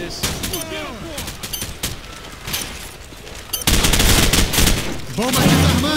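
Rapid bursts of automatic gunfire in the video game Call of Duty, set in a Rio favela sabotage match, loud and close, with dense volleys and sharp single shots, under a player's voice speaking.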